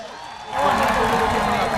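Audience applause at a shield presentation for Imran Khan during an education and skills orientation event: a steady, dense wash of clapping swells in after a brief pause and holds loud and close.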